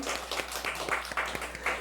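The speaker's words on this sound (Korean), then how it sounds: "그 하나님께 영광의 박수 한번 올려드릴까요?" A church congregation at a Sunday service claps in praise to God, a brief, faint patter of scattered hand claps in a large room, with individual sharp claps standing out over a soft hum.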